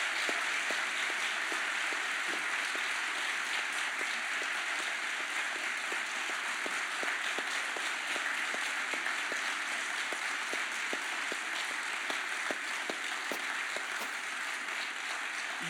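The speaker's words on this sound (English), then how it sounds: "So first, big round of applause." Audience applause at a university gift announcement ceremony, a sustained dense wash of many hands clapping steadily throughout, even and moderately loud.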